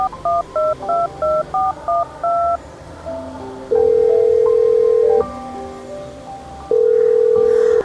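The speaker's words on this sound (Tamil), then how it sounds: "இந்த ஃபோன் நம்பரை அடிச்சு பார்ப்போம்." Keypad tones of a phone number being dialed, a rapid series of short paired beeps followed by longer, louder steady ringback-style tones, with no talking.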